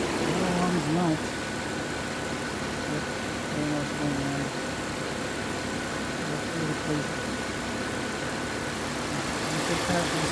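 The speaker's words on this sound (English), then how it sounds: "So doing a test drive with my Volvo with a broken serpentine belt." A Volvo XC90 engine runs with a broken serpentine belt, producing a steady mid-pitched hum close by. Someone talks over it and a faint tonal whine sits under the engine.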